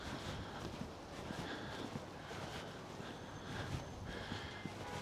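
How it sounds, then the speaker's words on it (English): Strong wind blusters straight into the microphone outdoors in Paguera, Mallorca. It makes a continuous rough rumbling roar that swells and dips, with no voices heard. "really strong blast of wind"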